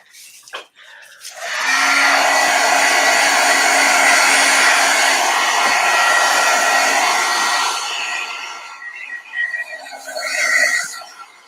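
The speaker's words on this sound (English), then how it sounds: "I'm going to hit this with the heat gun" A heat gun blows a steady, loud stream of hot air for about six seconds while craft work is in progress, then shuts off, leaving quieter handling noises.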